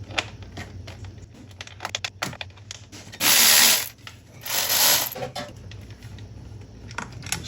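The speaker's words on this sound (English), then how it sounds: "Now, we grab a 12. We'll take the 2 bolts off of that elbow." Ratchet with a 12 mm socket loosening the two bolts on the turbo inlet elbow of a GR Corolla: quick clicking ratchet bursts mixed with metallic handling and two longer loud rasping runs, close up.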